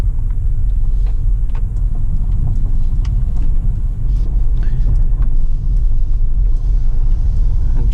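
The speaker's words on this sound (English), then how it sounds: "Let's go ahead and check out how this GLB 200 actually drives." A Mercedes GLB 200 on the road gives a steady low engine and road rumble heard from inside the cabin, constant and fairly loud, with faint small clicks and knocks over the drone and no talking.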